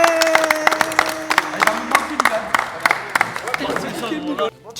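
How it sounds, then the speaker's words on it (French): A small group applauds with quick, dense claps that run through the whole stretch, mixed with excited voices and crowd chatter, fairly close and loud. "on applaudit s'il vous plaît"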